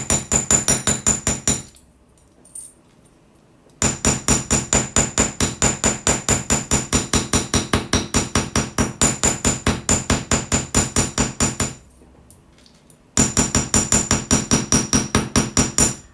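A hammer striking jewelry wire in rapid, even metallic taps, close and crisp, in three long runs separated by two short pauses.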